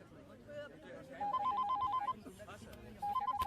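A telephone rings in two bursts of rapid electronic trills, clear and fairly loud, with people talking in the background between them.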